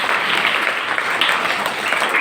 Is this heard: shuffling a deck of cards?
no